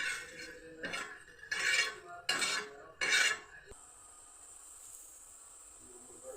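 Grated coconut scooped from a pan or bowl with a utensil, four short scraping, rustling strokes close by, then quiet with a faint high hum.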